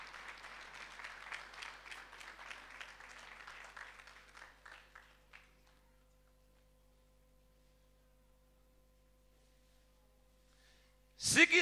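Clapping hands from a church congregation during a Sunday service, a dense broadband patter lasting about five seconds, fading out, then silence before a sudden loud burst at the very end.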